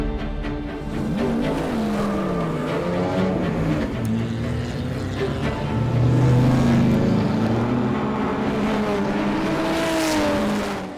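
A loud vintage Mercedes 300SL race car roars past up close, its engine note rising and falling as it accelerates by, with a sustained, throaty exhaust throughout.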